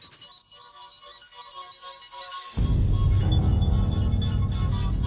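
A mobile phone's tonal ringtone chimes for a few seconds, then gets buried under a loud burst of dense, rumbling background sound.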